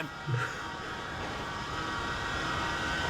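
A train rumbles along the tracks in Grand Theft Auto V, a steady broad rolling roar with faint clatter that holds level throughout, with no talking.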